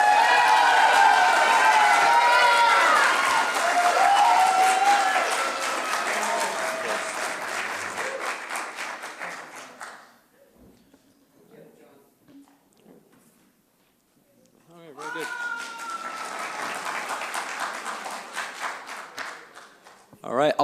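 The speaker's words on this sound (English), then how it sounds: "applause period is over." Crowd at a mayoral candidate forum claps loudly and densely for about ten seconds, fades to near silence, then bursts into a second long round of applause, with a voice heard briefly over the clapping.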